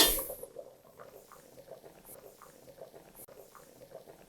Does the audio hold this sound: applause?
no